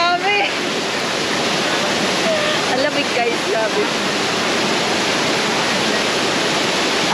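Small waterfall at Daranak Falls in Tanay, Rizal, pouring in a steady, loud, close rush of falling water that fills the whole clip, with people talking briefly over it.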